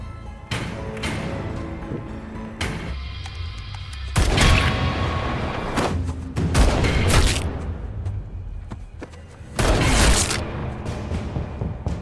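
Several gunshots ring out in a tense action film scene, arriving as loud sharp bursts in clusters with booming low-end impacts, separated by quieter stretches of rumbling background score.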